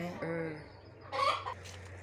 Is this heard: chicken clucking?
yes